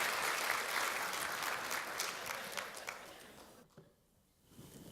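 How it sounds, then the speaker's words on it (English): An audience claps for Marisha after her talk at a dental practice in Edgewater, Maryland: a steady, full round of applause that fades out after about four seconds, then picks up faintly again. "Everyone give Marisha a big round of applause."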